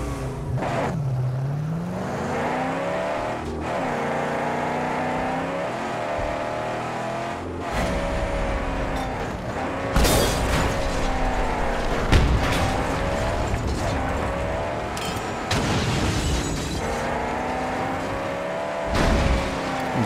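A car engine in the Mad Max video game revs and drones steadily up close, with pitch rising and falling as it accelerates and shifts, plus scattered impact thuds.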